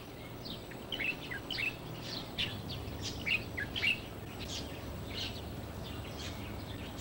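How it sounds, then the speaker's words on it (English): A Chinese bulbul sings at dawn in Taiwan, giving a string of bright, uneven chirping phrases from a moderate distance over a steady, quiet outdoor hiss. "At dawn, the Chinese bulbul's resonant but tuneless warble regularly accompanies early"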